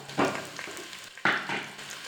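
Onions frying in a pan until golden brown for biryani, a close, steady sizzle with occasional bursts of louder crackle as they are stirred.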